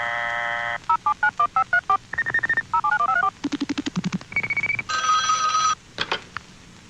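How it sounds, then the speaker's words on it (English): Old telephone exchange demo sounds in quick succession: touch-tone dialing bursts, rapid pulse clicks and electronic ringing tones, loud and close, alternating with short silences, no talk. "The time from the moment dialing is completed to the moment the called number rings"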